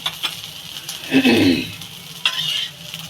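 Potato paratha frying in refined oil in a pan, with soft sizzling swells and a clatter as it is stirred or turned, close and moderately loud, with no talking.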